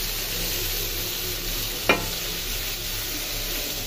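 Thick-cut vegetable slices sizzle and fry steadily in a hot pan, a continuous loud crackle with one brief clink of a utensil partway through.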